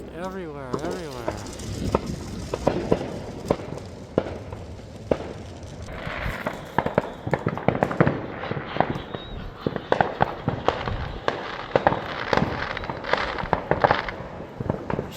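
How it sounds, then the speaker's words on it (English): Fourth of July fireworks and firecrackers going off all around, many sharp pops and crackles at irregular intervals, some near and some distant, with someone talking over them. "There are fireworks just everywhere."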